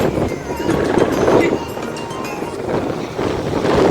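Loud, buffeting wind at the seashore roars steadily across the microphone, rising and falling in strong gusts with no voices.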